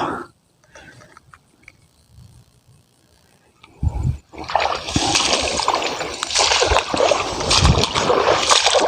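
Water is bailed out of a rice paddy ditch while fishing, starting with a few faint sounds and then breaking into loud, continuous sloshing splashes close by, with heavy scoops landing in quick succession.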